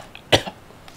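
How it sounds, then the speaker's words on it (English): A single short, close cough bursts out midway through otherwise quiet background, with a faint throat sound just after it. "cough."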